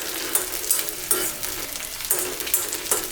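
Onion, garlic and chilies fry in oil in a pan for a curry leaf chutney, a continuous sizzle broken by regular scraping strokes of a spoon stirring the mix.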